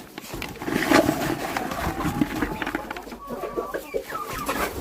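Several chickens cluck and mutter close by in irregular bursts, amid rustling and scratching noises, with no talking.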